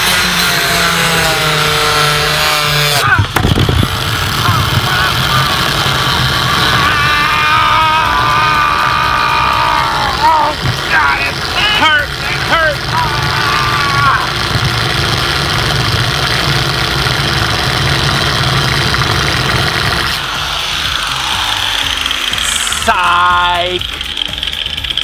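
A handheld grinder runs continuously at close range, a loud steady whirring drone with rattling vibration and brief shifts in pitch as it bites, while someone talks over it.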